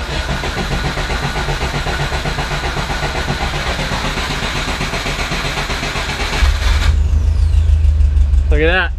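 A Porsche 914 engine with a newly fitted fuel system cranks and catches, then runs at a loud, rough, steady idle close by, with a deep rumble settling in after the start.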